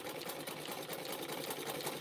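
A sewing machine runs continuously at a fast, even pace, its rapid mechanical chatter close and steady throughout.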